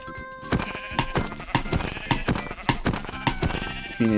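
Sheep in the video game Minecraft bleat repeatedly in short, close, nasal calls, layered over clip-clop footstep-like clicks in an irregular rhythm.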